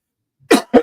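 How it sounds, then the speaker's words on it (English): Two sharp coughs from one person, close and loud, in quick succession after a brief low grunt, with no talking. "I'm coughing."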